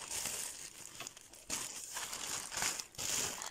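Plastic packaging from AliExpress parcels crinkles and rustles close up in bursts over several seconds, with short pauses between handfuls and no talking.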